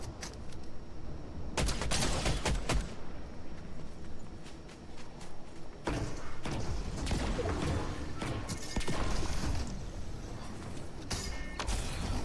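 Shotgun blasts in Fortnite ring out in scattered sharp bursts, some clustered together and others isolated, against a quieter background of in-game ambience and footsteps.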